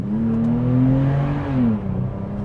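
A 2020 Toyota 4Runner TRD Pro's six-cylinder engine revs up hard with a rising, steady drone, pitch climbing then settling as the SUV accelerates, loud and close.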